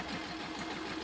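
A diesel engine drives a small boat with a steady, mid-pitched droning hum, close and continuous through a short stretch, with no talking.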